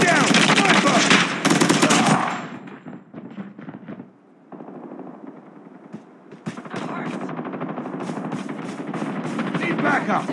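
Sniper and automatic gunfire ring out in the mobile shooter Call Off Duty on Android, with a loud burst of rapid shots, a brief lull of scattered cracks, then dense repeated firing building again.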